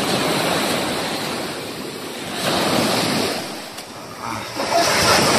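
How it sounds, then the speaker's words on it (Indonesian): Ocean surf rolls and breaks near a boat in Indonesian waters, a loud, broad wash of waves swelling and receding with some wind noise, no talk over it. "Ombaknya."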